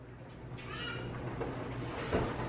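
A cat meows from inside a drawer it has crawled into, a few muffled, middling-loud cries over a steady room hum, with a brief knock near the end.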